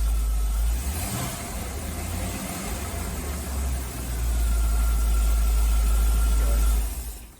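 A 1976 Corvette C3 idles with a deep rumble, dips briefly, then the throttle is blipped to a louder, sustained higher rev before easing off near the end.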